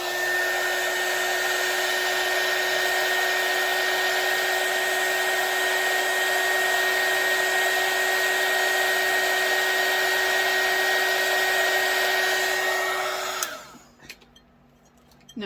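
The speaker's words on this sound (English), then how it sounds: "I'm going to use my heat gun." A heat gun blows hot air in a loud, steady whine and rush, then cuts off near the end, leaving quiet.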